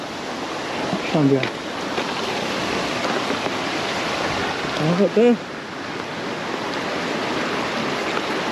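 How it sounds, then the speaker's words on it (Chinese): A small waterfall in a canyon in Lebanon gives a constant rushing roar close by, with someone speaking briefly over the water noise twice. "这边是个峡谷，有个小瀑布"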